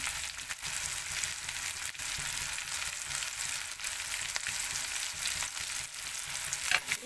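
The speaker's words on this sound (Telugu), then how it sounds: "కలుపుకొని టమాటా మెత్తగడిన దాకా మరొక రెండు నిమిషాలు మగ్గించుకున్నానండి" Tomatoes softening with salt in a pan for a fish curry give a steady, soft sizzle and crackle throughout, close and fairly quiet, with no talking.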